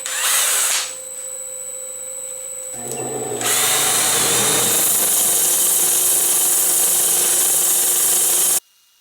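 A power sander whirs against an oak board being turned into a bowl, starting with a short burst, then running loud and steady before cutting off abruptly.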